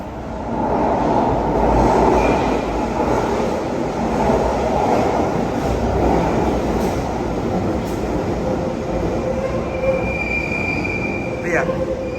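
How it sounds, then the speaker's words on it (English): A London Underground Bakerloo Line train at Waterloo station, heading south, rumbles steadily through the platform for the whole stretch, with metallic wheel squeal and a brief high screech near the end. "train's going south to Lambeth North and Elephant and Castle"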